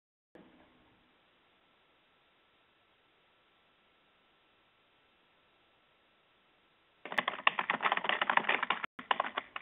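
Quick bursts of keystrokes clatter on a computer keyboard, close and clear, starting late after a long near-silence and running in a fast, uneven rhythm with one short pause.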